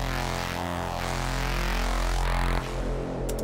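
Synth tone pushed through automated vowel-style filter sweeps with phasing, reverb and distortion, a dense, continuous buzzing wash that swells and morphs for several seconds before shifting tone near the end, with no voices.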